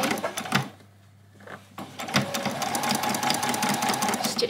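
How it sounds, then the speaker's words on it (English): A sewing machine stitches a doll's dress in quick rapid bursts, pausing briefly before running on steadily, close and clear with no talk. "Stitch over that and then do a back stitch"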